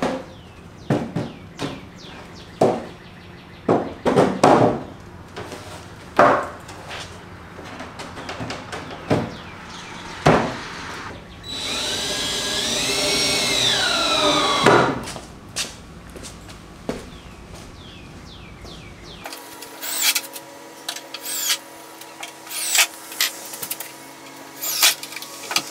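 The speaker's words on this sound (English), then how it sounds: "you flip it on top and you screw it in" A pre-made wooden panel being screwed onto a planter bed frame: sharp knocks and clattering wood handling, then a long whining power-drill run partway through, with bird coos nearby.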